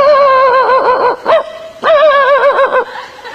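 A voice imitates a dog, producing two long, wavering whining barks with a short yip between them, loud and close.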